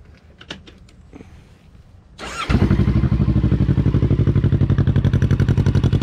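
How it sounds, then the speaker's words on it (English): A 2020 Kawasaki Ninja 650 fitted with a Two Brothers exhaust starts up after some quiet clicks, then settles into a loud, close, steady idle with a rapid, even pulsing beat. "I'll fire it up for you so you can hear that"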